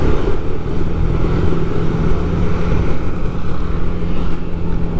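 Motorcycles ride along a busy road toward Alas Purwo in Banyuwangi. Loud, steady engine drone and road noise are heard close by without a break.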